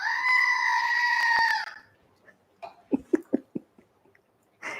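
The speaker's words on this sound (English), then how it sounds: "Screaming goats." A goat lets out one long, loud, wavering scream lasting nearly two seconds, then stops abruptly. A short run of quiet taps and clicks follows, with no one speaking.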